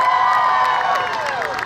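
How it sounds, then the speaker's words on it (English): At a Harry Potter film talent Q&A session, an audience roars with loud sustained cheering and shouts, a thick crowd wash that tapers slightly toward the end. "And one more big round of applause for you."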